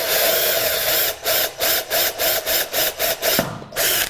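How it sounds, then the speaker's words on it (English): A power drill bores a hole down through a wooden board laid over scrap wood, a close, loud grinding whir that pulses in a regular rhythm of about a dozen short surges before briefly cutting out and resuming. "we just want to drill the hole down"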